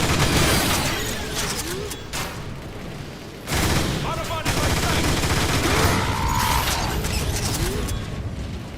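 Video game gunfire from Transformers: War for Cybertron rattles in dense, continuous bursts as Decepticons are blasted, mixed with clanking mechanical effects and loud throughout.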